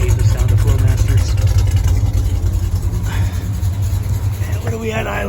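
A 1968 Plymouth Valiant with a 318 V8 and Flowmaster exhaust idles after a cold start, a loud, steady, throbbing low rumble close by, with a voice speaking over it.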